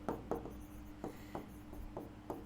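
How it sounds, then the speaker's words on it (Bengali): Pen writing by hand during a lesson, quiet close scratchy strokes in short irregular bursts, alone without speech. "আমি একটু লিখি"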